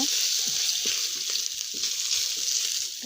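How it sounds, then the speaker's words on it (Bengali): Whole cumin, chopped ginger and ground spices frying in a pan, giving a steady, close hiss of sizzling oil with soft stirring clinks. "হালকা মশলাটা ভেজে নিব"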